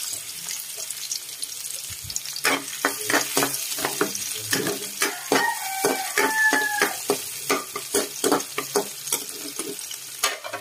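Onions sizzle in a pan of pork offal dinuguan, Ilocano style, a close crackling fry broken by repeated scraping stirs of a spatula, with no voices.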